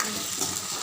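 Chopped spinach frying and being stirred in a hot pan with turmeric, a steady close sizzle with soft scraping, heard alone for under a second.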